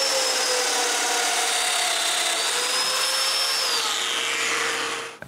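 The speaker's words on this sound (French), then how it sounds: "puis je les perce." Power drill boring mortises into wood pieces for a bathroom vanity, a loud steady whine running nearly five seconds before the bit stops and the sound cuts off.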